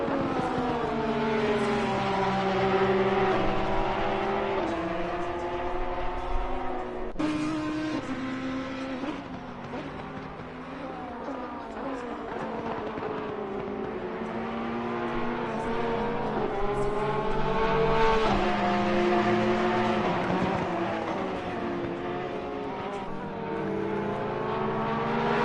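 Porsche race cars at Donington Park roar past in a sustained, loud engine drone, revs rising and falling as the cars chase each other through the circuit, one sharp gear change cutting through.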